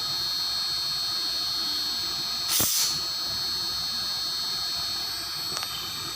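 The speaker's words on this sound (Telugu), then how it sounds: "కంప్రెసర్ ఆన్ అవుతుంది" Air conditioner compressor switching on and running, a steady high-pitched whine and hum with a short burst of hissing noise partway through, close and fairly quiet.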